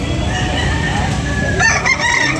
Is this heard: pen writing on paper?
no